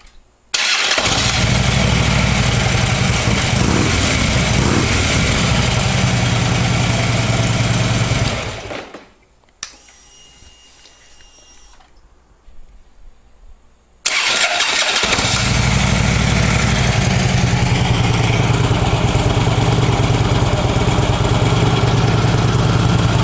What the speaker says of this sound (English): This is a 2010 Harley Road King, 96 cubic inch.